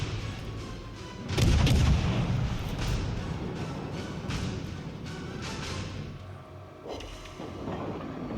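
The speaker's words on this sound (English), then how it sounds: "We got some shots on him." Naval gunfire in World of Warships Legends booms out in a heavy salvo, followed by rolling rumble and scattered distant shots under steady ship noise.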